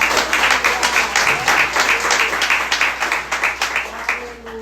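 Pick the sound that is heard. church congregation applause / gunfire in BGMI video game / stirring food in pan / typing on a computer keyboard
church congregation applause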